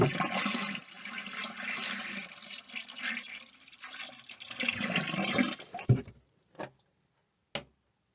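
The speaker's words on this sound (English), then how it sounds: "collect water as the tank refills after flushing the toilet" A toilet flushes in a loud rushing surge, then the tank refills with water running and gurgling before tapering off into a few faint final drips and clicks.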